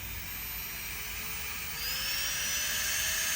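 A Renhe 505D manicure and pedicure nail drill runs steadily, giving a continuous high whine that rises slightly in pitch partway through, close and fairly quiet.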